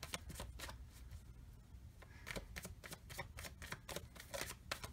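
Tarot cards are shuffled by hand for a reading, giving a quiet, steady run of soft riffling flicks and taps close by, with no speech over it.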